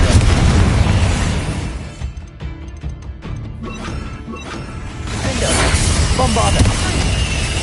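A Confringo fire spell blasts in Hogwarts Legacy with loud, rumbling explosive bursts and crashing debris, easing briefly in the middle before a second heavy surge of booming impact.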